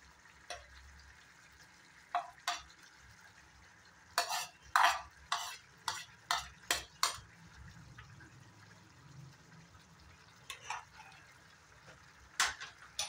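Egg curry gravy simmers and reduces in a pan while a spoon scrapes through it in bursts of quick strokes, the strokes sharp and close over a faint bubbling background, no one speaking.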